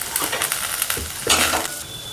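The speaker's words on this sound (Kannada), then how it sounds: "ಇದಿಷ್ಟನ್ನು ಚೆನ್ನಾಗಿ ಫ್ರೈ ಮಾಡ್ಕೊಳ್ಳೋಣ" Spices and cumin seeds sizzle in a hot pan while a spoon stirs and scrapes in short bursts, close and fairly loud, for a village-style ridge gourd bassaru.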